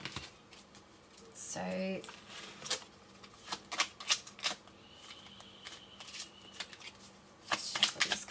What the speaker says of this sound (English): shuffle these cards in a certain way there, like that